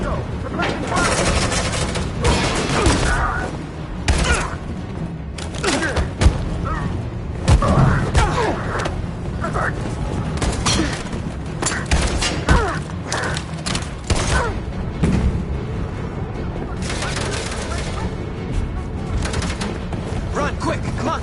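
Gunfire during a fight in Detroit: Become Human: dense, rapid cracks and booms run continuously, mixed with shouting voices.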